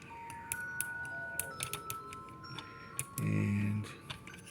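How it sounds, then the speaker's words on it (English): Ratchet joints on a Transformers Optimus Prime toy click in a quick run of sharp, light ticks at close range, followed by a short louder rustle. "So we got some ratchet articulation, as you can hear."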